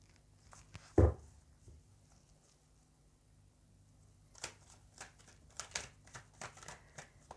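Tarot cards are shuffled with soft riffling and flicking bursts, a brief thump early on and a run of quick papery snaps toward the end, close and quiet with no talk.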